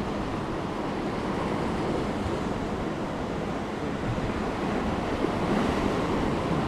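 Ocean surf at a fishing spot in Oman, a continuous loud wash of breaking waves and rushing water mixed with wind buffeting the microphone.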